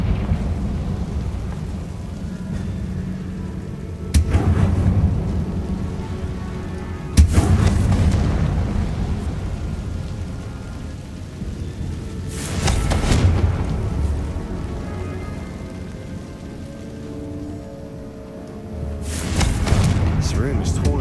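Confringo fire-spell blasts in the video game Hogwarts Legacy: several deep, booming explosions spaced several seconds apart inside a tomb, each with a rumbling tail, over a low game ambience.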